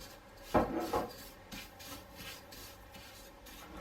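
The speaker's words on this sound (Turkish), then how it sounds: "Şimdi tereyağımın üzerine hepsini katıyorum kadayıflarımın." Shredded kadayif pastry is tossed into melted butter in a pan, giving two sharp rustling scrapes near the start followed by softer shuffling and faint frying texture.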